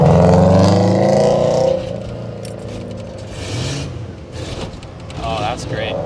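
Ford Bullnose truck engine with a fuel problem runs roughly, revving unevenly at first and then limping along, with people talking over it.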